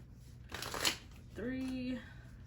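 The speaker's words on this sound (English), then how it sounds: "So let's shuffle 5 times." A deck of tarot cards being shuffled at close range, a quick riffle of card flutter followed by a short sliding shuffle, quiet in a calm room.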